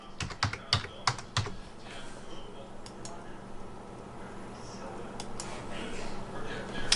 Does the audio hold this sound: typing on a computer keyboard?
yes